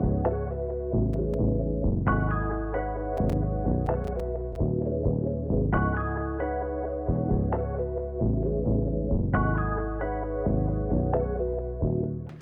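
Synth bass and a synth melody play together in a steady looping pattern, loud and dense, with no voices.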